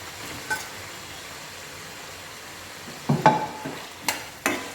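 Chicken liver and heart pieces fry in oil under a low, steady hiss, with a few sharp clinks and scrapes of stirring clustered near the end.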